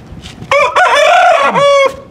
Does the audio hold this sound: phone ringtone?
no